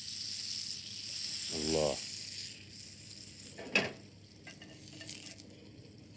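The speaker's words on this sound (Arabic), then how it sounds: "انا دائما احب استخدم الزبده لما اشوح شيء، فراح نحط زبده" Butter sizzles in a cast iron pan with a soft hiss, while utensils stir and clink and a voice briefly exclaims.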